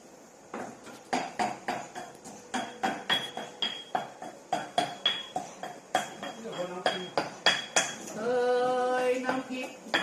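Chili paste made with roasted chilies, onion and garlic is pounded in a mortar with a pestle, giving a fast, regular run of sharp knocking strikes close by, followed briefly at the end by a voice.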